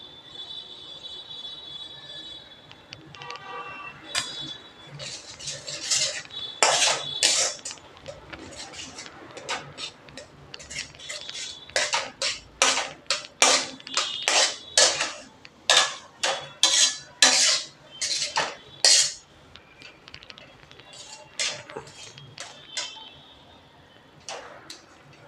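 A spoon stirs and scrapes a ghee mixture roasting in a pan, starting quietly, then knocking and clattering against the metal in a quick, uneven rhythm, close and fairly loud, before settling again.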